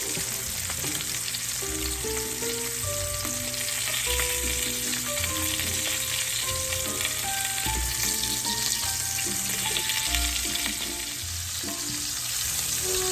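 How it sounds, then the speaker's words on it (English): Short ribs sauté in olive oil and butter, seasoned with salt, pepper, garlic powder and onion powder, giving a steady, loud, continuous sizzle with no one speaking. "start out by sauteing my short ribs in cooking olive oil and a little bit of butter."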